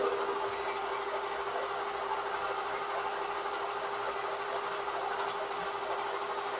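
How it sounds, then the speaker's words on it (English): Metal lathe running steadily while cutting a part for a vintage European pen, a constant loud mechanical hum and whine with no pauses and no voices. "lathes tend to make a little bit of noise."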